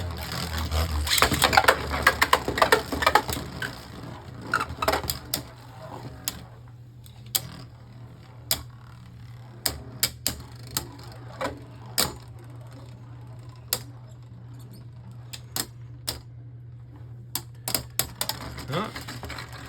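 Beyblade Burst spinning tops, Hasbro and TT Bushin Ashura, launch with a rattling clatter and then collide in a stadium, sharp plastic clicks and impacts dense at first and thinning to scattered knocks over a steady whirring hum.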